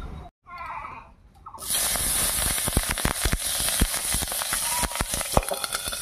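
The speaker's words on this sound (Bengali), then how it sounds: "মাছ ভাজার এই তেলের মধ্যে ভেজে নেব কয়েকটা কাঁচা লঙ্কা।" A quiet moment gives way to a sudden loud sizzle as green chillies hit hot oil left from frying fish, followed by steady hissing with frequent sharp crackling pops.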